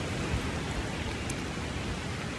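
Steady rain falls in a dense, even hiss that fills the whole stretch, close and continuous with no voices over it.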